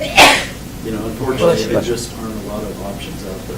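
A single sharp sneeze bursts out at the start during a city council meeting, followed by someone speaking at normal volume for the rest of the moment.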